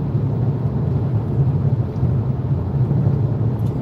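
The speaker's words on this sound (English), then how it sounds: "Yep, rain, exactly, Tina." Steady, heavy rain pours in a dense, unbroken wash, with a deep rumble of thunder rolling underneath throughout.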